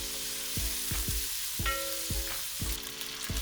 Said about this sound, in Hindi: प्याज को हम अच्छे से फ्राई कर लेंगे, इसका हल्का ब्राउन कलर आ जाए